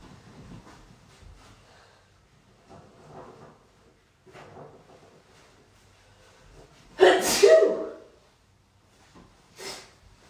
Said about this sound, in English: I feel like I gotta sneeze